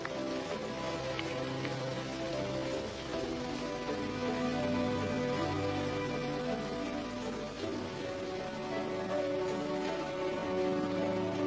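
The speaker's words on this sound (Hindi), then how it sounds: "इस मूसलाधार बारिश को झेल जाना बाएं हाथ का खेल है शेरों के लिए" Heavy equatorial downpour soaking the grassy plains of the Masai Mara savanna in Kenya's Rift Valley, a dense, steady hiss of rain hitting the ground that stays loud and unbroken throughout, with no voices.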